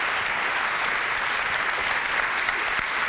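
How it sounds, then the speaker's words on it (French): Sustained applause from a conference audience at a data masterclass, steady and dense throughout, loud and close with no talking over it. "Je voudrais qu'on salue déjà par quelques applaudissements l'exercice de Simon Chignard."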